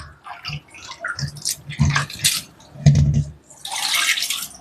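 Water splashes and pours in short uneven bursts while prawns are washed in a bowl, close and fairly loud, with squishy handling sounds and a longer gush of running water at the end.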